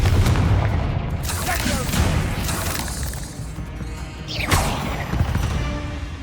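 Explosive blasts from the Confringo fire spell in the Hogwarts Legacy video game, loud crashing booms layered over dense game sound effects and battle noise, with a voice casting spells.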